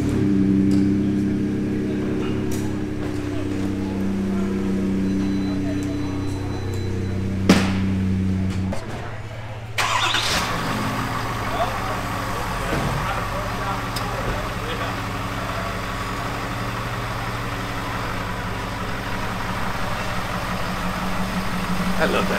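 A Ford F-250 overland truck engine idles with a low steady rumble at an expo, then revs up partway through and keeps running rough and loud; people talk over it.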